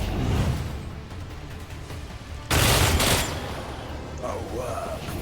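A distant, muffled volley of gunfire in the game Rogue Trader, with one louder burst midway standing out from a rumbling, noisy battle ambience.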